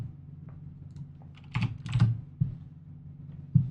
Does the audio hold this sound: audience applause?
no